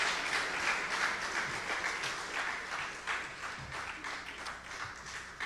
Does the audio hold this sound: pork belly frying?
no